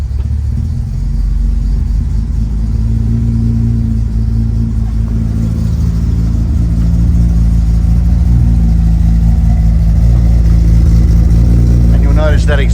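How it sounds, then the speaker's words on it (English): A Holden Torana LC GTR XU1 Bathurst car engine idles fast with the choke in, a loud, steady low rumble running throughout with no breaks. "Put that choke in. Let it just idle a bit harder."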